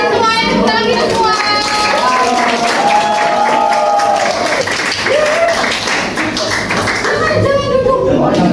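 A crowd at a school coaching event claps and taps continuously amid lively chatter and children's voices, a busy noisy room throughout.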